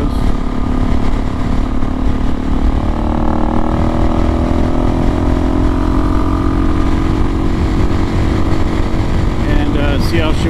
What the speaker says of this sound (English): we're gonna take the DRZ out and climb that hill in front of us